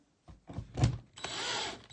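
A screw is driven into wood with a power driver while joining two boards for a dining room table, two short bursts of whirring and grinding in a quiet room, close up with no talking.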